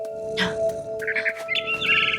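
A mother bird chirps in the game What Remains of Edith Finch: a few short bright tweets and trills, fairly close and clear over a faint steady tonal background hum.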